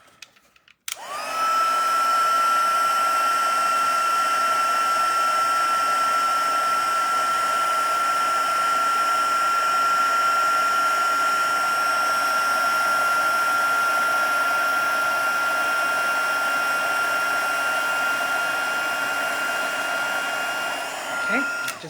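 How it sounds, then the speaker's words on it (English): A heat embossing tool melting embossing powder blows a loud, continuous whirring hiss with a steady high whine, switching on abruptly near the start and running unbroken for about twenty seconds before cutting off. "And I'm going to emboss this."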